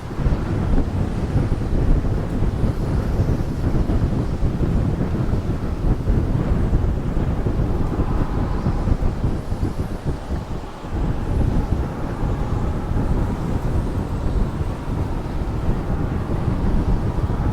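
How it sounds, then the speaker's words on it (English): Steady, heavy wind roars and buffets against the microphone without letup on a dark rooftop at night, a dense rumbling gust filling the whole stretch. "It's a little bit windy, actually."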